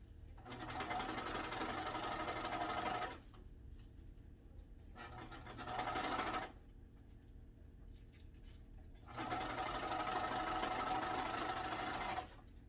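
A sewing machine takes in the seam of a fitted long tube skirt with a side slit, running in three steady buzzing stretches of a few seconds each with quiet pauses between, close but fairly soft.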